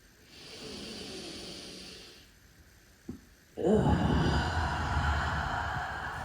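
Deep nasal breathing during a yoga inner-thigh stretch: a soft, drawn-out breath, a brief pause, then a louder, longer exhale, heard close up.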